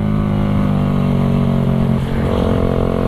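A Suzuki Raider 150 carbureted motorcycle fitted with an Indonesian-made Creed exhaust pipe revs and idles nearby, giving a loud, steady, throaty engine drone with a slight dip partway through.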